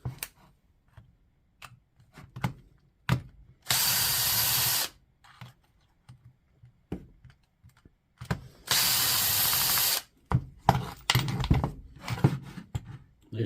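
Short bursts of a power screwdriver backing out T15 and T10 Torx screws to open a DeWalt DCD996 drill, with two longer whirring runs among clicks and handling noises, close up.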